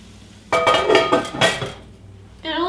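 A metal lid clatters onto a pan of salted red cabbage, two or three bright clanks in quick succession, close and fairly loud, followed by a short ringing clink.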